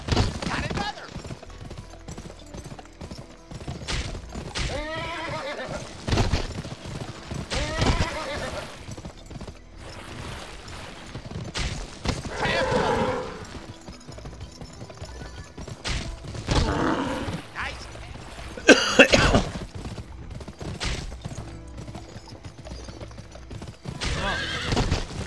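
Horses in the Wild West video game GUN neigh and whinny repeatedly among clattering hoofbeats and game action, loud and close, with occasional bursts of talk from a player in between.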